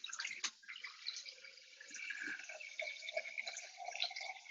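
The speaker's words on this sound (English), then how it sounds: "So just gonna add more water." Water being poured into a pot of Angolan bean soup, a continuous splashing and trickling stream that stays fairly quiet and steady throughout, with no one talking.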